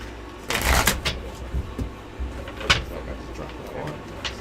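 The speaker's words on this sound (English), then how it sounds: "That was a failed shuffle." Playing cards are riffled and flicked in a few quick bursts, close by, with soft handling noises between.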